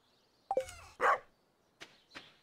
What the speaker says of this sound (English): Yes, Buttons, you're a very big dog. You've scared off three crows.